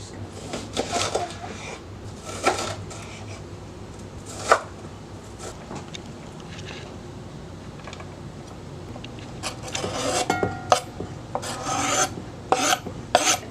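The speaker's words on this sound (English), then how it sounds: "you're going to finely chop it up" A knife finely chops red onion on a cutting board, irregular bursts of rasping, scraping strokes coming in clusters with short pauses between them, close and moderately loud.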